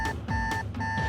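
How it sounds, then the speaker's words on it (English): An alarm sounds from a device on Batman's utility belt, a loud electronic beeping in three evenly spaced bursts over a low background rumble. "everyone's attention is attracted by an alarm coming from a device on Batman's utility belt."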